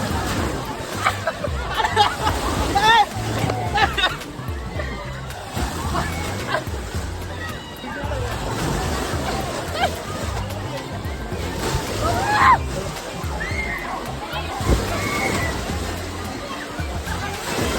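Water sloshes and splashes in a crowded wave pool at Chill Out theme park in Perundurai, Erode, with steady churning surges beneath loud crowd chatter and nearby voices.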